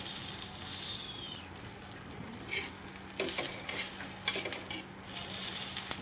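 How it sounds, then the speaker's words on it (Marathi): Green chillies roasting in a little oil in a pan, a steady soft sizzle and crackle with occasional stirring scrapes and small pops, close and moderately loud, no voices. "बघा आपली मिरची पण छान अशी भाजून तयार झाली"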